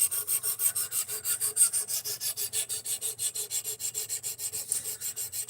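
A blade is sharpened by hand, stroked back and forth against a rasping surface in a quick, regular rhythm of scraping strokes, close and clear, with no voices.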